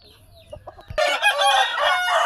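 An eight-month-old Nemali country rooster gives a few soft clucks, then bursts into a loud, close crow that carries on to the end.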